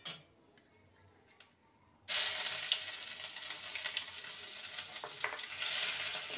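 Ginger paste goes into hot oil in a pan with asafoetida for a vegetarian papad dish, then a sudden loud sizzle that keeps going with faint stirring scrapes, after a quiet start with a couple of soft knocks.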